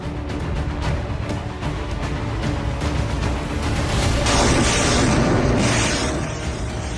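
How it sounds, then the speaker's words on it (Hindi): A grenade blast sets a Russian T-72 tank on fire in combat, heard as rough, rumbling noise that swells into a broad, roaring burst partway through. "ग्रेनेड के धमाके से रशियन T-72 टैंक में आग लग गई"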